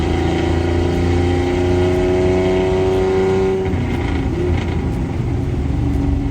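A warmed-up Datsun 240Z engine in Bosozoku style runs loud and close with a steady rumbling drone and a rising tone. It eases into a rougher idle partway through.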